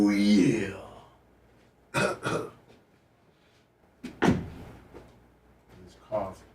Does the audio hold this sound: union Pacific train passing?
no